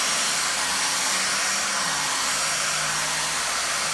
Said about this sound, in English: when I am utilizing my blow dryer, I do not point it in towards the scalp, and it is always off the scalp and just on the hair